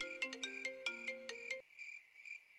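A mobile phone ringtone plays a bright, bouncy melody of quick repeated notes, then drops to a fainter, thinner ringing pattern partway through, with no talking.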